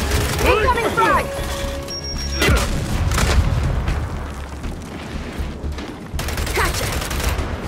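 A frag grenade explodes in the Gears 5 video game, a heavy boom within a chaotic mix of shots, clanks and combat noise, with voices shouting.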